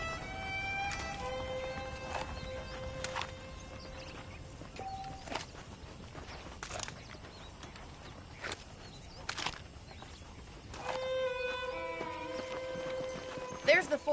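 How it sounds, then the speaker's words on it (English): Horse hooves clip-clopping in Red Dead Redemption, with saddled horses at a ranch: a steady, light hoof rhythm sits under an ongoing conversation, with sharp scattered clacks and tonal chimes of game sound. "The horses are saddled up over here."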